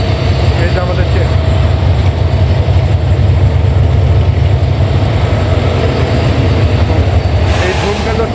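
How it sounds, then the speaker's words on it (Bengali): Dhumketu Express passenger train coming in at a station: a loud continuous low rumble of rolling carriages and rail noise close by, steady throughout, with a hiss near the end. "এই যে আমাদের ট্রেন।"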